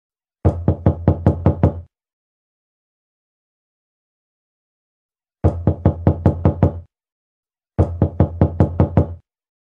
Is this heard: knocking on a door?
yes